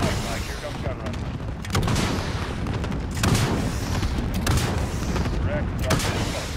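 Helicopter gunship gun run in Call of Duty: Modern Warfare, heavy rapid cannon fire and booming impacts in loud continuous bursts, with radio chatter and battle noise underneath.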